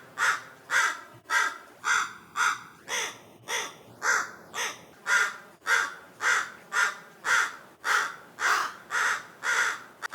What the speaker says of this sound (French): si je change le temps de délai. Ça va changer la fréquence du filtre en peigne.